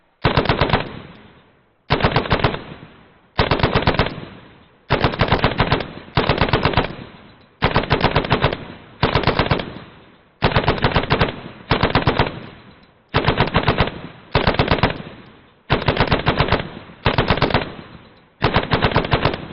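Sustained machine gun fire in a military squad-training video game, delivered as repeated long bursts of rapid shots with brief pauses between them, loud and close, with no talking.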